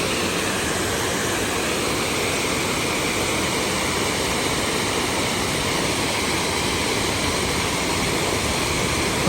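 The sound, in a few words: waterfall in the Lake District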